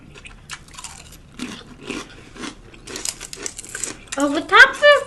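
Close, crunchy chewing and biting into a giant Jimmy John's Italian Unwich lettuce-wrapped sub sandwich, with repeated wet crunches in an uneven rhythm and mouth noises that grow louder toward the end, heard alone with no talk.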